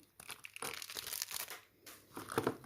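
A small plastic sachet holding miniature toys is torn open and handled, with close, crisp crinkling and rustling in quick bursts and a short pause midway.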